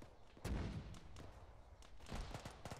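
Weapon fire in the video game TSB during a last-stand battle: one heavy boom stands out amid a quieter spread of distant gunshots and scattered cracks. The whole passage is faint.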